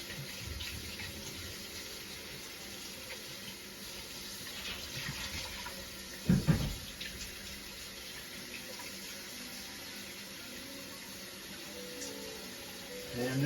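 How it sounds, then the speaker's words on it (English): Room-temperature tap water runs in a steady, moderate stream in a kitchen, close by with no talking, interrupted briefly by a low thump partway through. "I'm letting the water run a little bit so that it comes closer,"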